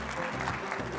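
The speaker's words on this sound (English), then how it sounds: "Please a round of applause for our panelists" A short, steady burst of audience applause for a panel at a COP28 conference session, a dense wash of clapping from a large crowd in a hall.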